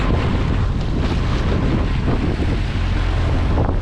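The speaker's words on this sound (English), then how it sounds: "Our dinghy propeller is going into sand, picking up sand." A small dinghy's outboard motor churns through shallow, sandy turquoise water, a steady close roar heavily buffeted by gusting wind across the microphone for the whole stretch.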